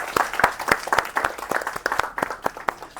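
A lecture class applauds, a scattered burst of hand claps from a modest group, uneven and moderately close, thinning out toward the end.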